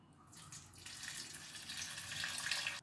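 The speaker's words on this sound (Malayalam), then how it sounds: "കുറച്ച് വെള്ളം ഒഴിക്കാം" Water pours steadily into a pressure cooker holding slit potatoes, a soft, continuous splashing hiss lasting a few seconds with no talk.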